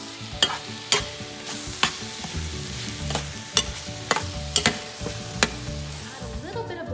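A spoon scrapes through a sizzling red and yellow lentil dal sauté seasoned with salt and coriander, giving sharp, irregular stirring knocks over a continuous soft frying hiss, close and moderately quiet.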